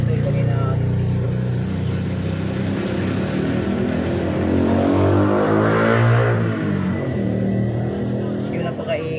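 Loud roadside traffic with cars and motorbikes revving and passing close by, a steady roar that swells around the middle, while someone talks over it at an outdoor cooking spot.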